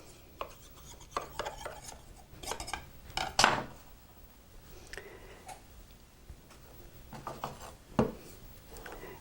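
Pie crust being trimmed with a knife, a scattering of soft scraping taps and clinks against the pie dish, quiet and close by with no talking.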